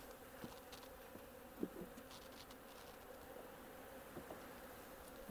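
Honey bees buzz softly and steadily around a hive frame outdoors late in the season, with a few brief louder passes close by over a faint background hum.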